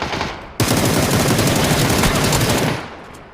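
Sustained rapid gunfire in PUBG: Battlegrounds bursts dense and loud after a brief quieter lead-in, continuous automatic shots for about two seconds then fading out.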